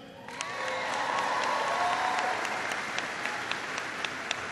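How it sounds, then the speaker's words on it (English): A crowd at a presidential jobs-tour event bursts into applause for the Air Combat Command Heritage of America Band, clapping and cheers swelling quickly and staying loud, with scattered sharper claps standing out near the end. "I want you to give a big round of applause to the Air Combat Command Heritage of America Band."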